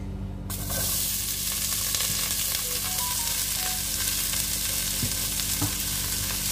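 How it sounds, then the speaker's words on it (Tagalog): Cabbage sizzles steadily in a hot pan, a continuous close frying hiss broken by a few scrapes and clinks of stirring. "So, ilagay na natin ang cabbage, guys."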